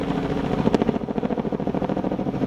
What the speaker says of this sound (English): Police choppers buzzing overhead